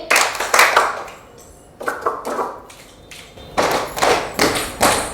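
Hand claps keep time with a children's Tamil Bible song, falling in short rhythmic bursts with brief gaps between them, close and moderately loud.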